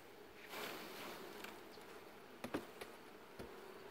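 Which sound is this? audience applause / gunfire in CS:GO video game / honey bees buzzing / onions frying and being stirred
honey bees buzzing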